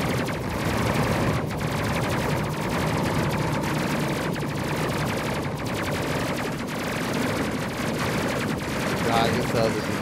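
Ship weapons firing in the Space Crew video game, a sustained, dense stream of rapid gunfire bursts at close range, steady and loud for the whole stretch, with brief talk mixed in.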